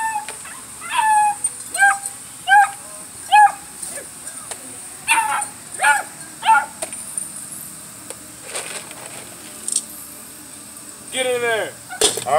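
Several dogs bark, yip and whimper around a feeding, with repeated short bursts of barking at close range and a brief pause in the middle.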